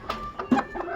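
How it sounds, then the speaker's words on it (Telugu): Chickens clucking in a village yard where chicks are kept, a handful of short, close clucks in quick succession within about a second. "ఇదైతే కోడి పిల్ల మా నాన్న పెంచుతుంది అనమాట"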